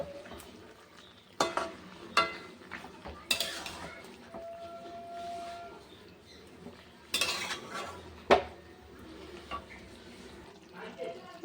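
Spinach being cooked in a pot with fish oil, stirred with a utensil: scattered clinks and scrapes of metal against the pot over a soft background, with faint talk now and then.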